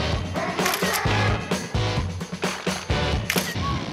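A camera shutter fires repeatedly from a bridge in London, with a series of sharp, close mechanical clicks spaced unevenly over a dense background of traffic and engine noise.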